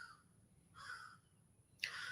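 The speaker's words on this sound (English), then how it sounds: "The crows are letting us hear it." Crows caw at a rural property, three harsh calls spaced about a second apart, moderately distant and fairly faint against a quiet background.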